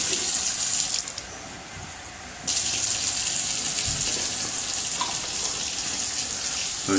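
Water runs steadily from a tap in DeLand, a bright hissing stream that briefly softens before gushing fully again, close by with no talking.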